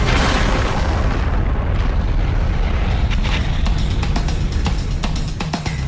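Styrene tanker truck exploding at a fire scene, a massive continuous roaring blast that stays loud and dense throughout, with crackling bursts in the second half.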